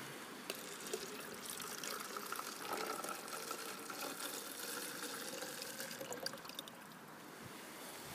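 Water pours steadily into a second hydroponic bottle outdoors, a continuous close trickling and splashing fill with no talking.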